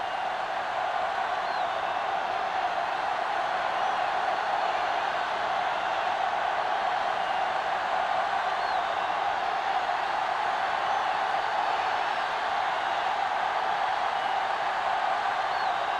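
A steady, distant crowd roar fills a football stadium before kickoff in a Buffalo versus New England game. It stays even and continuous, with no distinct cheers standing out.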